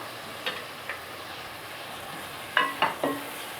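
Boiled potatoes go into fried masala in a pan. A soft, constant sizzle runs throughout, with a few sharp scraping clinks of stirring near the end.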